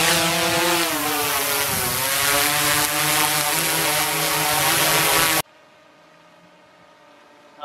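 A drone rises for an aerial survey of an accident scene near an aerodrome, its loud, close rotor whine climbing and wavering steadily before cutting out abruptly into a faint hum.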